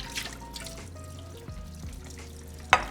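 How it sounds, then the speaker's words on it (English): Raw beef rinsed under running tap water, a close trickle and splash of water over meat with a brief louder gush near the end; no speech. "So I'm just rinsing this thoroughly so that before storing our beef, it's fresher"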